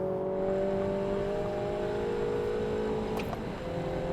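Mini Challenge race car on a resurfaced track at Castle Combe, a steady engine drone heard from inside at a constant pitch with faint road noise, no clear rise in revs.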